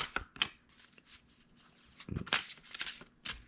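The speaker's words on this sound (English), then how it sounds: "So this will get shuffled. I'm going to do a really loose shuffle." A deck of dungeon cards is loosely shuffled by hand on a tabletop, soft papery slides and flicks in several short bursts with quiet gaps between them.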